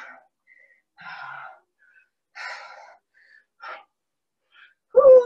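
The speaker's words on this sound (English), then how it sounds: "I'm breathing heavy." Heavy breathing after a 30-minute cardio ladder workout: several loud, breathy exhales and gasps in separate bursts with pauses between, ending in a sharp, strong gasp.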